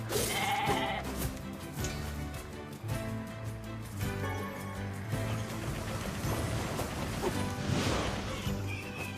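Sheep bleating in the video game Nier Replicant, heard over a dense, continuous layer of game music and ambience with a few thumping impacts, the calls fairly loud and close.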